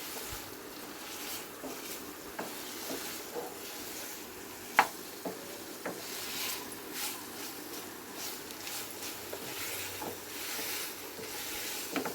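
Masala-coated chicken cooks in a covered pan and gets an occasional stir, giving a faint, steady sizzle with a few soft scraping clicks.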